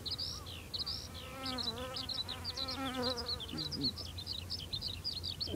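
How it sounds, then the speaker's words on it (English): A small bee buzzes close to the ear near crimson clover, a faint, wavering drone that rises and falls as it hovers, while birds chirp repeatedly in the background. "He's actually buzzing by my ear."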